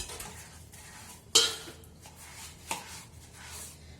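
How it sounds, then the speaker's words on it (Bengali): Dishes and pots being washed by hand, with scattered clinks and scrapes of utensils against each other over running background noise, including one sharp metallic clatter near the middle and a lighter knock later. "এই কটা বাসন আছে ধুয়ে নি।"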